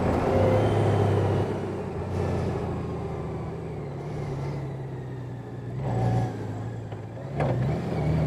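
A 2018 Honda Goldwing motorcycle climbs a mountain switchback, its engine droning steadily and rising in pitch as the DCT gearbox shifts on its own, with a couple of brief surges of revs.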